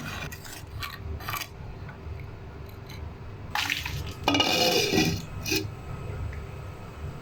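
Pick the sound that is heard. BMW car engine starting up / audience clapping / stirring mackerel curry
stirring mackerel curry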